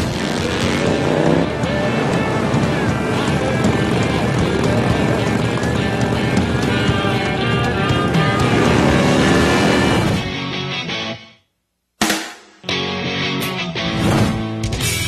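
Harley-Davidson Dyna motorcycles ride past loud and fast, a dense steady engine roar that drops away near the end and then returns in short bursts.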